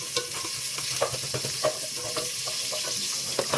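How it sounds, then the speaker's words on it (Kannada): Onions fry in oil in a pressure cooker, with a steady soft sizzle under scattered sharp scrapes and clacks of a stirring spoon, and no voices. "ಈರುಳ್ಳಿ ಹಾಕಿ ಸ್ವಲ್ಪ ಫ್ರೈ ಮಾಡಿ"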